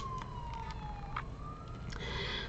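A siren wails faintly in the distance, its tone sliding slowly up and down, with a few soft clicks and knocks close by.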